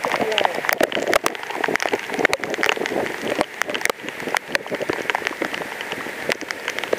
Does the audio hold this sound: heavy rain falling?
yes